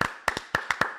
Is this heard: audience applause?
yes